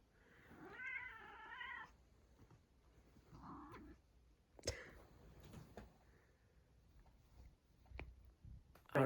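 Orange cat meowing indoors: one long wavering meow followed by a few shorter, softer meows and chirps spread across the stretch, fairly close in a quiet room.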